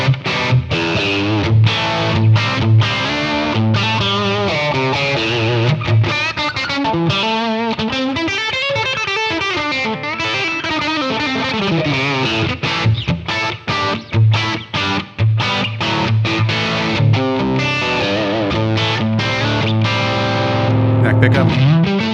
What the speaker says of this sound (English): Now we're starting to push this amp up into higher gain.